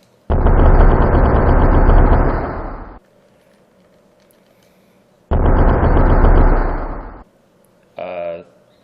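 Bombs go off in a video game in two long, loud explosive bursts separated by quiet, followed by a shorter, higher-pitched burst at the end.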